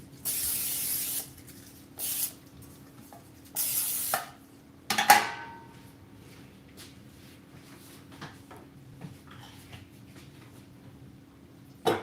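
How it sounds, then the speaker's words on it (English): Several short hissing bursts of cooking spray coat a baking tin in a kitchen, four quick sprays in a row followed by a clatter of the tin and light handling noises, fairly close and with no talk. "We're gonna spray our tin."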